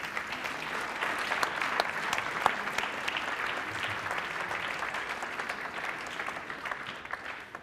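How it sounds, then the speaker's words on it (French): Audience applause for a prize winner at an awards ceremony for a national history competition, steady and fairly even from a moderately distant crowd, with a few sharper claps rising above the wash before it gradually thins. "Applaudissons-le."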